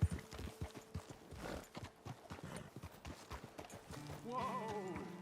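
Horse hooves trot in a steady clip-clop across open ground in Red Dead Redemption 2, with several beats close and fairly loud, and a whinny-like tonal call rising near the end.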